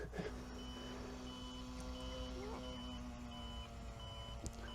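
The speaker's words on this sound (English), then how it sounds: "Why is it beeping? Yeah, tow hitch. I don't know why it has to beep like that." The tow hitch button on a Ford Kuga sets off a repeating electronic warning beep, short tones at a steady rhythm, fairly quiet over a low background hum.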